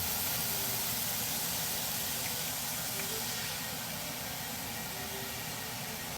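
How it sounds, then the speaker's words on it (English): Wine hits a hot searing pan to deglaze it, giving a steady, broad sizzling hiss that holds evenly for several seconds with no talk. "Take your wine back to your searing pan and deglaze."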